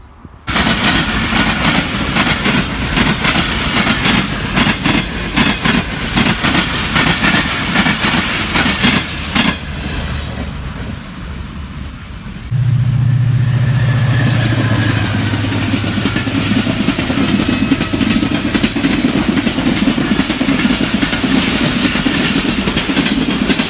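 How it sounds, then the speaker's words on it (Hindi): Loud, continuous rumbling and clanking of a freight train being loaded at a railway station, with a steady mechanical drone throughout and no talking. "अभी ये मालगाड़ी यहाँ पर लोड हो रहा है"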